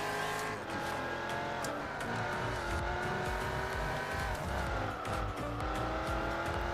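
Jaguar race car in the Gran Turismo 4 driving game, a steady engine drone with shifting revs and continuous tire squeal through corners, sustained and fairly loud with no talking.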